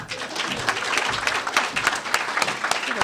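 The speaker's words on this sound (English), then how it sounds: "Give Hiram a round of applause" An audience at an environmental education awards ceremony breaks into steady applause, many hands clapping densely and evenly from start to finish with no talk over it.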